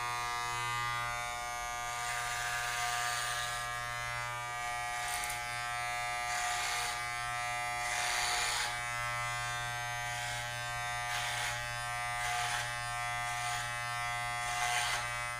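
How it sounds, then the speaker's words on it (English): Electric hair clippers cutting a man's hair over a comb buzz steadily and close by, with repeated brief swells of crisper snipping as passes are made, no talking. "I'm going to be doing a clipper cut over the comb, clippers over comb."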